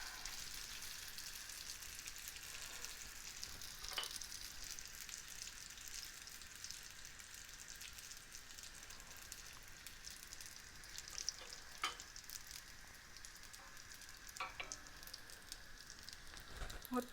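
Belyashi, meat-filled dough patties, frying in hot oil: a continuous soft sizzle and crackle with occasional sharper pops, steady and fairly quiet throughout.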